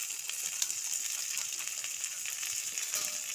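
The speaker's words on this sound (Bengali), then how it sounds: "সমস্ত মশলাগুলো ভালো করে কিছুক্ষণ কষিয়ে নিচ্ছি।" Spices and tomato sizzle steadily in oil in a pan while masala is fried for a Bengali rohu fish curry, a bright, even crackle with small pops, close by, and no voices.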